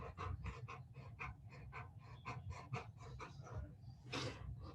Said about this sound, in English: Can you guys hear my dog panting here?